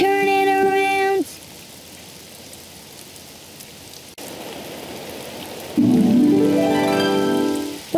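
Rain falls in a Daniel Tiger's Neighborhood children's video game as a steady soft hiss between bright electronic musical tones at the start and end.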